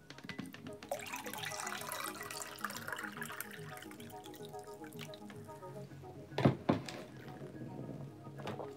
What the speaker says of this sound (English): Sanjay, even the sound of you pouring water is seductive to me, Miss Mara.